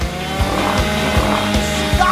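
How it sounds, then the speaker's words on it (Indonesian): A power saw grinds continuously through a Twix chocolate bar, a loud, steady motor whine with small rhythmic dips as the blade bites, close and running the whole time. "Singkirkan gergaji itu sekarang"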